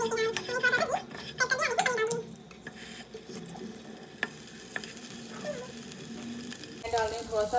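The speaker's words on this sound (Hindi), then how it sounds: "घी लगा के ब्रश से और उसको सेक देती हूँ, थोड़ा क्रिस्पी कर देती हूँ" Sandwich toasting in ghee on a hot pan, with a steady soft sizzle and some clattering of utensils; someone talks over parts of it.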